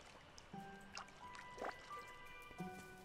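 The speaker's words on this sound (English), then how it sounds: "Oh, I can water multiple at once." Watering crops in Disney Dreamlight Valley, soft splashes and trickling water with drip sounds and light chimes, several short liquid bursts at an even pace, quiet and close.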